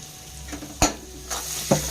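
Chilli powder, turmeric and salt fry in a pan and are stirred, with a soft sizzle underneath and a few distinct spoon scrapes and clinks against the pan, close and brief.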